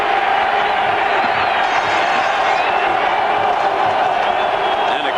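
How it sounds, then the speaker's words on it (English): A college football stadium crowd at a 1988 West Virginia versus Penn State game roars in a sustained, dense wall of cheering and yelling, loud and continuous throughout. "And the coach got the crowd going."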